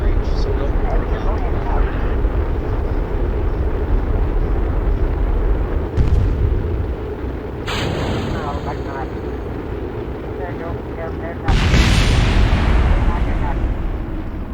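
Rocket engine roar during a near-vertical launch in the Kerbal Space Program game, a loud continuous broadband rumble with abrupt shifts near 6, 8 and 11.5 seconds as stages change, with someone talking over it.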